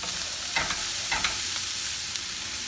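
Cabbage and vegetables with turmeric being stirred in a pan, a steady sizzle broken by a few close spatula scrapes and clatters, no speech.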